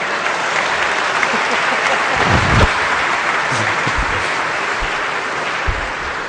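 Audience applause fills a political speech hall, a steady dense clapping wash that holds for the whole stretch at fairly loud level, with a few sharper claps standing out.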